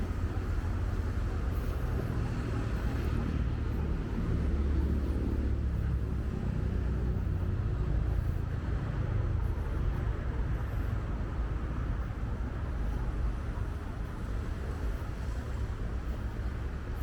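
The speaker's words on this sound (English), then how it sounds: "In front of us are so many cement trucks." Cement trucks and other traffic on a new waterfront road near mangroves produce a continuous, heavy low rumble of engines and tires. The sound stays loud and steady throughout, with no clear gaps between vehicles.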